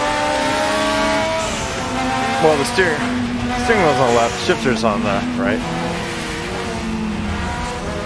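A Group 5 race car at Bathurst in the Raceroom video game, its engine droning and revving through shifts, pitch sweeping up and down over several gear changes, while someone talks over it throughout.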